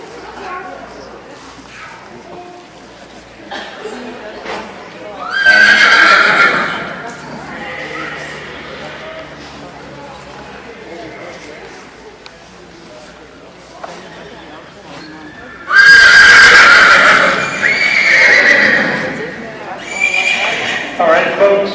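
Horses whinny loudly at a Vanner horse fair demonstration in Caledon, Ontario, with two strong neighing bursts rising over a busy arena background, faint hoof clip-clop and an announcer talking throughout.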